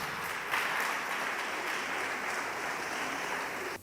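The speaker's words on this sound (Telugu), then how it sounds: "చప్పట్లు కొడదాం దేవుని స్తోత్రం" A church congregation at a Telugu Christian service breaks into loud, dense applause, a steady wash of many hands clapping for about four seconds before it cuts off abruptly.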